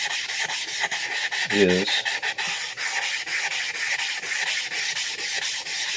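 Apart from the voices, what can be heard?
nagura stone rubbing on whetstone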